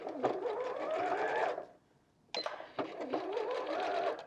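A sewing machine stitches fabric pieces for a dog toy in two fast, even bursts, loud and close, with a short pause between runs.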